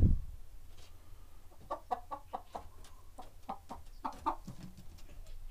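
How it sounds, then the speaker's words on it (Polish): Several chickens on a farm in Podlasie, Poland, cluck in short, repeated bursts at an uneven rhythm, fairly close by, with no talking. "Przegoniłem kurę."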